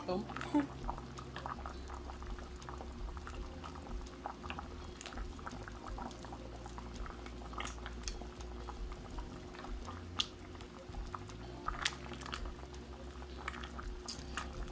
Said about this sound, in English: Just gonna let this come down to a boil